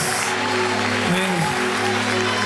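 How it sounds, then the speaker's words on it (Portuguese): Applause rises from the crowd at a church congress, a broad steady wash of clapping beneath sustained musical tones and voices throughout. "aplauda o Senhor"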